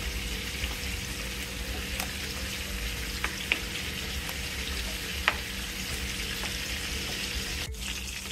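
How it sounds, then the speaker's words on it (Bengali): Giant river prawns fry in hot oil with a steady, close crackling sizzle, joined by a few sharp pops and light clinks of a utensil against the pan. "মাছগুলোকে এক পাশ ভেজে নিয়ে আরেক পাশ উল্টে ভেজে নিয়েছি।"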